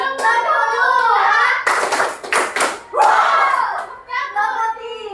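Fourth-grade pupils in a classroom do the 'tepuk 1, 2, 3' clapping game: a brief volley of rapid group claps sits between stretches of a teacher talking and children chanting.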